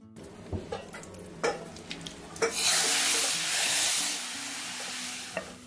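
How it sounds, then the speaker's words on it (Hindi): A few clinks from a pan, then spices hit hot oil used for frying pakoras and burst into a loud, steady sizzle that slowly fades, tempering for kadhi. "और बस इसका मैं तड़का लगा लूँगी।"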